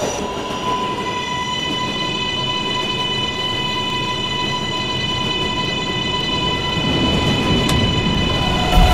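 A 7 Express subway train runs steadily, with a continuous rumble and high motor whine that grows slightly louder toward the end.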